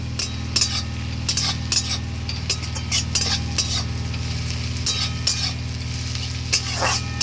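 Browned onions and slit green chillies fry for a country-chicken kosha curry, sizzling steadily under a low hum while a metal spatula scrapes and clinks against the pan in irregular strokes.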